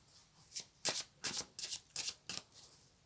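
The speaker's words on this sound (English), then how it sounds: "So I'm going to pull a few cards." A deck of oracle cards being shuffled by hand: six or seven crisp riffling bursts in an uneven rhythm, close and fairly quiet, with no voice over them.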